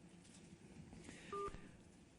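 A Galaxy Nexus phone plays a short dialing tone for a call, faint and brief, over quiet background hiss.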